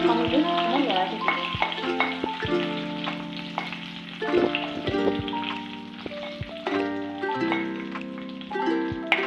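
Dry fruits and raisins frying in ghee in a wok, a continuous crackling sizzle broken by repeated scrapes and taps of a stirring spoon, with a steady tonal hum in the background.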